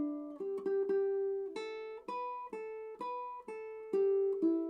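A ukulele plays a melodic tune phrase from the Irish tune Out On The Ocean, clear plucked notes in a steady lilting rhythm, close and alone with no talking.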